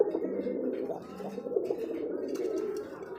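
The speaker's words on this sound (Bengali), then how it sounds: "রাসগোল্লা পিওর এক জোড়া কবুতর, ব্ল্যাকের মধ্যে সাদা" Pure Rasgolla pigeons, a pair of black-and-white birds, give a low continuous cooing and gurgling close by, steady for the whole stretch with slight swells and no clear gaps.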